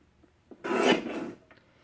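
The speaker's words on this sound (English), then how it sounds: "This will be trimmed horizontally at 4 3/4" A paper trimmer blade slides through a tall cardstock panel for an easel card, giving one close, rasping cut of about three-quarters of a second, with faint handling taps just before and after.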